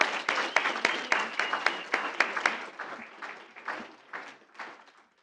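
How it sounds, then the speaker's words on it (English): Applause from a school board meeting audience for student competitors, a steady patter of many hands clapping that thins and fades toward the end. "let's give a full round of applause to all of our competitors"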